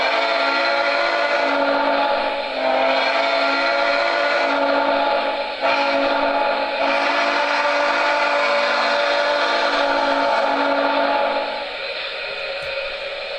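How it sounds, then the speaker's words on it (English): Whistle and crossing-signal sounds from an MTH Premier Southern Pacific GS-4 Northern model locomotive, a steady sustained tonal wail with layered harmonics running continuously at close range, with slight dips in level partway through. "this is that same whistle with the crossing signal sound"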